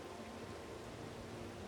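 Rain in Farming Simulator 22 hisses in a steady, soft wash of even noise, faint and unbroken over the short stretch.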